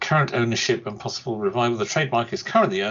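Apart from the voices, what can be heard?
None of the usual background noises is heard.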